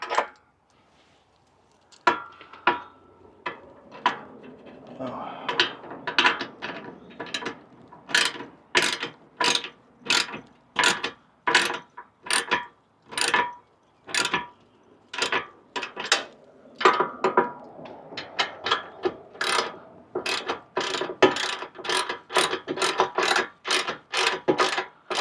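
A wrench ratchets while tightening bolts for step sides on a 2024 Chevy Colorado Trail Boss, with a long run of sharp, rhythmic clicks in quick bursts, close and fairly loud, with no talk.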